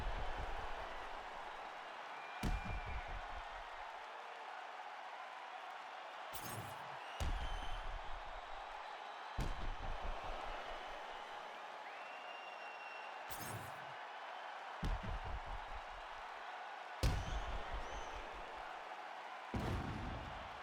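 A mixed martial arts crowd cheers as a fight goes the full 25 minutes, a continuous roar in the arena with sharp loud bangs and thumps recurring every few seconds and an announcer's voice running over it.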